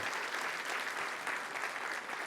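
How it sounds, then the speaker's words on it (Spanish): Dense, steady applause from a church congregation fills the space at a moderate level, a continuous wash of many hands clapping with no breaks. "Dele un aplauso al Señor."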